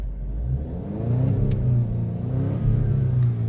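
A 2017 Alfa Romeo Giulia engine with service oil level sensor and throttle warnings is given gas, giving a steady low rumbling idle that rises into a couple of moderate revs, close by with no talking.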